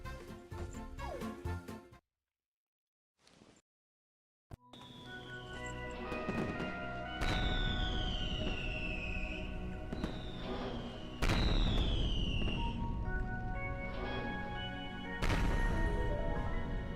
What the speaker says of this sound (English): How about we go and set up the fireworks cannon?